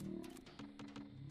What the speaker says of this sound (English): Those feral ghouls.